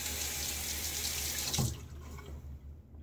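A kitchen or bathroom tap runs steadily into a sink to rinse a Gillette Super Speed safety razor, a close, even water rush that cuts off partway and leaves quiet running drips.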